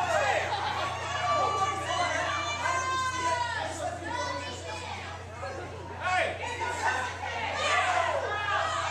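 A wrestling crowd murmurs and calls out in a steady, busy babble throughout, with louder swells of reaction rising and falling over a low hum, while a commentator talks over it.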